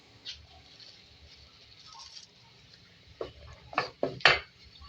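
Cooked moong and masoor dal is mashed in a pot, with quiet scraping and a few sharper knocks of a utensil against the metal clustering toward the end.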